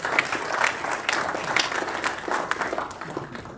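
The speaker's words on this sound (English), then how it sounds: "So please give them a round of applause." Applause from the audience at a Rotary club meeting, a steady wash of many hands clapping for about four seconds, fairly close and even, with no talk over it.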